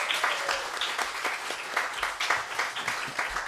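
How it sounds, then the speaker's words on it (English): A church congregation at a Sunday service gives a round of applause, loose uneven clapping from a moderate crowd in a hall, rising and falling in small surges without voices. "Can we give them another round of applause?"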